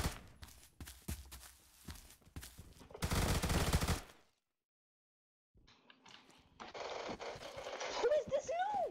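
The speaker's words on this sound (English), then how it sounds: "he blasted me with a shotgun" Shotgun blasts from an online first-person shooter match, a loud broadband burst around three to four seconds followed by a pause and further gunfire and game noise, with players chatting over it.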